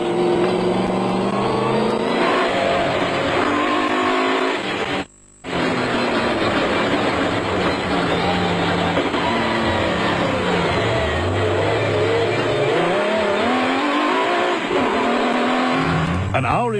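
Onboard a Nissan and a Ford off-road race truck in a South African off-road race, a loud, constant engine roar rises and falls with revving and shifting over rough terrain, with a brief cut partway through.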